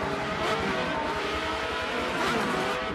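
Race cars at Monza in Forza 7 roar continuously at high revs, a loud, close engine drone with slight pitch shifts and no speech over it.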